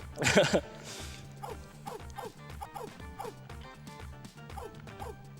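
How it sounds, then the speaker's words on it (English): A cartoon dog in the video game Pet the Pup at the Party gives a burst of barks at the start, followed by bouncy game music with rhythmic plucked notes. "Sounds like the dog's behind."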